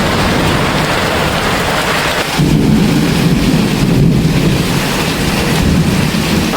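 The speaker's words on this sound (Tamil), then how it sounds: "அதுக்கு மாற்றமாக சரியான மழை." Heavy rain pours down steadily with rumbling thunder, a loud constant roar of rainfall that swells partway through, with no voices.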